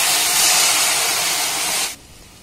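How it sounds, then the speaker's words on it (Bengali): Two cups of liquid milk pour into a hot pan of roasted semolina for suji halwa, giving a loud steady hissing sizzle that cuts off sharply near the end, leaving quiet behind. "এবার দেখুন যে কাপের মাপ করে আমি সুজি নিয়েছিলাম সেই কাপের মাপ করে এখানে আমি 2 কাপ লিকুইড দুধ দিয়ে দেব"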